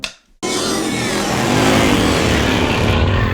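A group of custom motorcycles pulls away together after a brief silence, their loud engines suddenly roaring up close and holding a steady, rising rumble.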